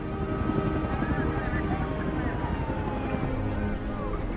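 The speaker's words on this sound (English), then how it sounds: "9 helicopters and 34 ambulances evacuate survivors." A steady low rotor-like drone of a helicopter evacuating survivors at an airliner crash site fills the scene, with faint tonal whines drifting above it and no clear talk.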